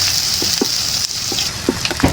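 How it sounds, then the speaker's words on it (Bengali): Whole spices, a bay leaf, cinnamon pieces, cardamom, cloves and black pepper, frying in hot oil for a duck curry make a steady close sizzle with soft crackles and a few stirring clicks. "মশলা আমি ভাজা করে নিব।"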